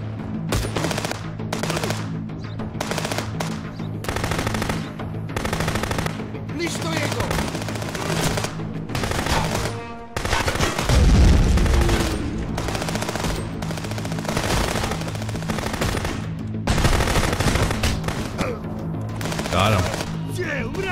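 Rapid automatic gunfire in the game Contraband Police, loud and close, with a steady rattle of bursts and a heavier blast about halfway through.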